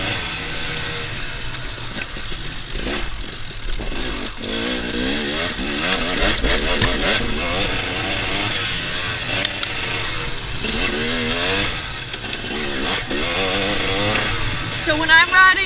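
A 2017 TX 300 dirt bike is ridden fast off-road, its engine droning steadily and rising and falling in pitch with throttle changes, loud and close throughout, with a voice talking over it.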